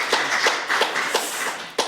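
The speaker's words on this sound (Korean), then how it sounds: "다시 한번 응원의 박수 부탁드립니다" Scattered hand claps from a small forum audience applauding a speaker at a panel on power-grid congestion: about six separate, unevenly spaced claps over two seconds, fairly close and moderately loud, with no voices.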